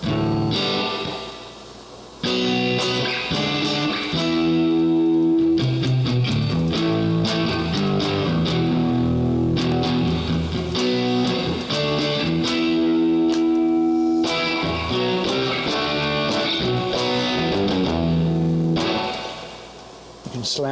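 Electric guitar run through an Amplitube Marshall amp model, a loud, continuous distorted riff of chords and sustained notes with effects and echo, playing alone for about twenty seconds.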